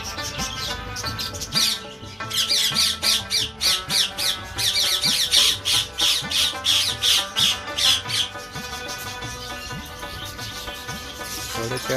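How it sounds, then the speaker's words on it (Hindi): Parrots kept in a fenced enclosure at a theme park near Habib Chowk, Gujar Khan, give loud, harsh, rapid squawks in dense repeated bursts, close by, with background birdsong and no talking. "थोड़े प्यारे तोते हैं जी अंदर"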